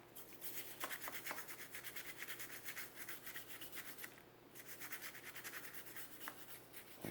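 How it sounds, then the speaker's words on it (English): A toothbrush scrubs small metal pieces wet with Windex, giving quiet, rapid back-and-forth bristle strokes in a steady rhythm, heard close and alone. "So I'm going to take this Windex and use a toothbrush."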